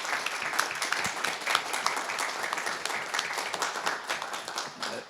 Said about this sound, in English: Let's give a round of applause to all these people